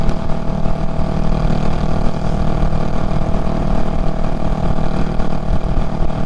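Steady, loud wind buffets the microphone during a motorbike ride on a brisk morning, with a low engine drone running underneath throughout.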